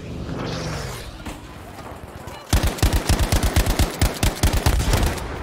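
An StG assault rifle fires in Battlefield V multiplayer, a steady string of loud, evenly spaced automatic shots about five per second after a quieter stretch of ambient battle noise.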